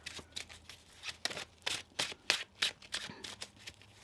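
A deck of tarot cards being shuffled by hand in a series of crisp riffling bursts, each a second or less, close and moderately loud with short pauses between them.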